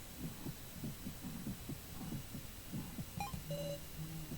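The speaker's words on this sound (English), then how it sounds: "My heartbeat is loud and out of control." Synthetic heartbeat effect in a board-style video game during a tense dice roll: steady low double thumps repeating about twice a second, with electronic beeps and a tone chiming in near the end, no voices.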